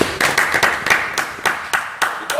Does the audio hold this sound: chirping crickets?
no